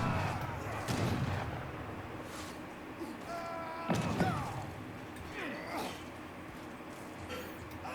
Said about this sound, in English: now these organs are gonna wreak havoc on all these little longbows